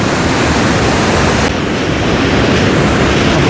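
Swollen river water rushing beneath an old bridge on the Sonprayag route to Kedarnath, a loud, steady roar of turbulent flow with no talk over it.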